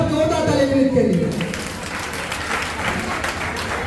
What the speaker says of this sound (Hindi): पर जोरदार ताली विनीत के लिए